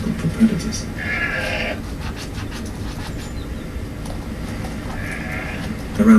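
Soay sheep bleat on St Kilda, two drawn-out calls rising over a constant outdoor rumble, with a voice talking over the scene.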